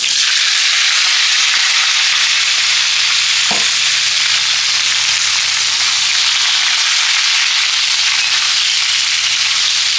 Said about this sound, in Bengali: তো এটা ঢেলে দেবো আলুর তেলের মধ্যে।